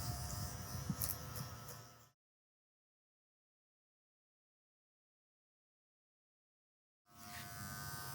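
An Andis electric hair clipper buzzes steadily while cutting a boy's hair in a home taper haircut, stops for about five seconds of silence, then starts up again, close and fairly quiet.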